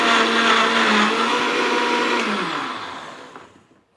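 Low-cost electric juicer mixer whirring at high speed, a loud steady motor whine up close that then winds down and fades to quiet, with no talking.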